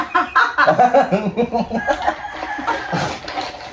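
Chickens clucking close by in quick, uneven bursts, several birds calling over one another.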